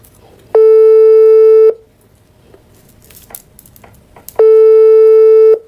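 Phone ringback tone while waiting for a call to be picked up: two long, loud steady electronic tones, each about a second, separated by a quiet gap of faint background noise.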